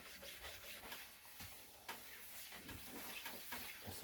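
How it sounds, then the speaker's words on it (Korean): A cloth rubs back and forth over a wooden folding box, wiping the front, back and sides in a steady, close, quiet series of soft scuffing strokes, with no talking. "앞뒤로 옆에까지 싹 다 닦아내 주시고 다음 작업을 하시면 됩니다."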